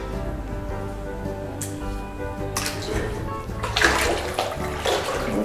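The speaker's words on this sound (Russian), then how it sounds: "Для ног такой контрастный душ для ног." Water from a contrast foot shower in a German mixed sauna runs steadily, splashing onto a hard floor, with louder gushes and spatters toward the end and faint background hum.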